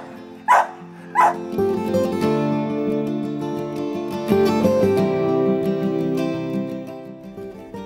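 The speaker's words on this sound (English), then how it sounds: "new owners, Matrina and Stormy, told us that they had been looking for a new dog for a while, specifically an English Bulldog." An English Bulldog at an adoption shelter gives two short barks near the start, followed by a steady musical backdrop with sustained tones for the rest.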